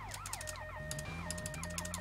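A wailing vehicle siren in the video game GTA Vice City sweeps up and down repeatedly in rising and falling cycles, loud and continuous over a low steady engine hum.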